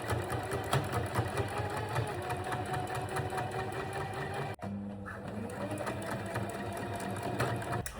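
A sewing machine stitching strips of fabric, running in a fast steady mechanical whir with rhythmic needle ticking, close and even, with a brief pause partway before resuming.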